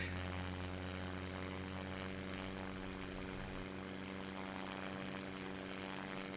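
Bush plane propeller engine in the video game SimplePlanes VR, a steady, even droning hum with a pulsing tone, loud and constant, with no talking.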